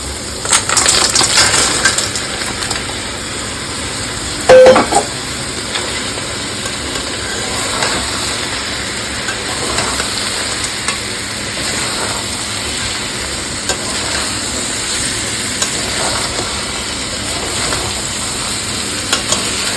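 Fried crabs tipped into a wok of spiced masala and stirred, with a loud clatter as they drop in, then a steady sizzle and hiss of frying under scraping stirs.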